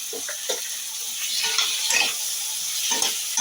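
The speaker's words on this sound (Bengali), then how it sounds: "টমেটো বাটাটা দিয়ে আমি কিছুক্ষণ নাড়বো" Tomato paste fries in a pan with a continuous bright sizzle, broken by soft scraping strokes as it is stirred, fairly loud and close.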